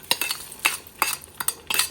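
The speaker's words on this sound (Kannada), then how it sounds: "ಅದನ್ನು ಹಾಕ್ಕೊಂಡು ಒಗ್ಗರಣೆನ ರಸಮ್ಮಿಗೆ ಹಾಕಿ" A spoon stirs hot tempering into a pot of rasam in a home kitchen, producing five or six sharp clinks and scrapes in an uneven rhythm, close and fairly crisp, with no talking.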